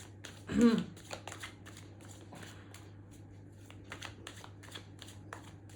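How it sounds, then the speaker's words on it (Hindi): Tarot cards being shuffled and drawn, with one brisk riffle burst near the start followed by scattered soft card flicks and taps over a low steady hum, quiet and close. "एक कार्ड और निकालते हैं। आई नीड जस्ट 1 कार्ड, इतने कार्ड्स नहीं चाहिए।"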